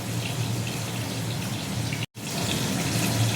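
Water pours steadily into a mixer grinder jar already holding cashews, fennel seeds and poppy seeds, a continuous close splashing trickle broken by one brief silent gap, with no talking.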